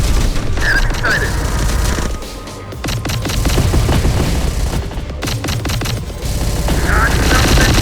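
Dense gunfire from the Terminator: Dark Fate - Defiance video game, with bursts of automatic weapons, booms and mechanical clatter filling the whole clip loudly amid combat noise and shouted voices.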